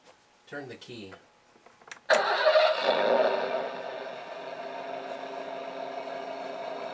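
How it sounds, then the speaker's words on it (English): A Corvette engine cranks and fires up with a sudden roar, then settles into a steady rumbling idle; brief voices are heard just before it starts. "Sound of the Corvette."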